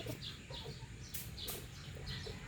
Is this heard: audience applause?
no